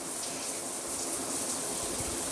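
A rain shower running in a renovated guest bathroom, a steady, even hiss of falling water that continues unbroken throughout, with no voices.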